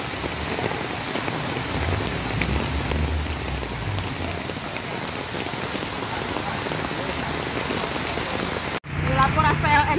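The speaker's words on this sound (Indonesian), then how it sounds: "Hujan angin, hujan es." Heavy rain with strong wind and hail in Madiun, a loud dense roar of drops and hailstones pounding surfaces without letup, then a sudden cut to a brief, lighter stretch of downpour near the end.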